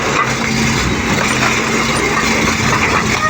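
A Caterpillar 320 excavator runs with its muffler removed, giving a loud, steady diesel rumble with a rough, unmuffled drone that holds evenly throughout and is heard up close without speech.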